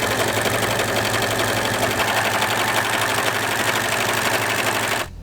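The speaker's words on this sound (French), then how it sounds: "mon surfilage à la surjeteuse" Serger overlocking the fabric seams of a dress or top, running in a loud, steady, rapid mechanical whir with a fast stitching rattle, then winding down at the very end.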